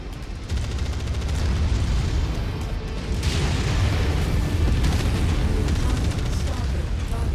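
A mech explodes in MechWarrior 5 combat, a loud sustained boom and rumble of blasts and debris rolling on for several seconds amid ongoing battle noise.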